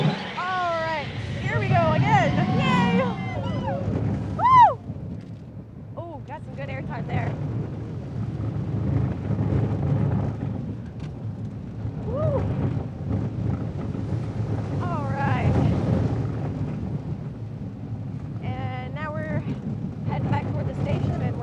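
Riders on the Cheetah Hunt roller coaster at Busch Gardens Tampa are buffeted by steady, loud wind rush for the whole run, while voices shout and call out over the roar.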